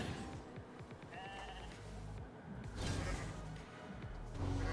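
Sheep bleat in a video game: several wavering bleats over a busy bed of whooshes and hits from the game, with no talk over them.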